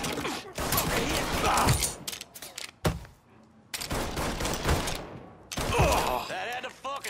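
Gunfire in Mafia 3 Definitive Edition comes in loud, ragged bursts of rapid shots separated by brief lulls, close and punchy, with mechanical clatter between volleys.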